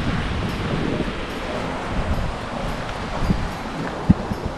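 Steady wind noise while sailing a boat downwind in a 7 to 8 knot breeze, a continuous broad rush with faint water sounds and a couple of small knocks near the end.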